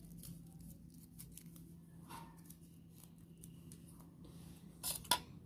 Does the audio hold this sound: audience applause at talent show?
no